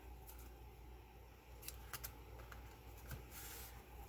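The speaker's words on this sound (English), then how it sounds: "now I'll use my ribbon scissors" Ribbon scissors trim the ends of ribbon on a handmade card, producing a few quiet, crisp snips spaced irregularly against a soft background hush.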